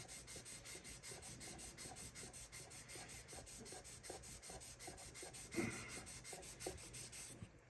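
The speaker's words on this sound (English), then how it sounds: "I can hear stuff rubbing off, so I want to keep sanding" Steady, rhythmic hand-sanding strokes rasping back and forth over putty, close and continuous, with one brief sharper scrape partway through.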